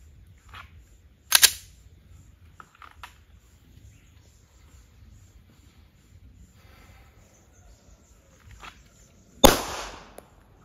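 Two sharp, loud gunshots, one early and one near the end, with quiet between them, fired during draw practice for competitive pistol shooting.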